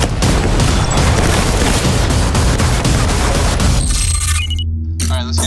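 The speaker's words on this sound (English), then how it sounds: "I got gunfire." Dense gunfire and explosive booms from a tactical shooter video game trailer, a loud, continuous barrage that cuts off near the end to a low hum and faint electronic tones.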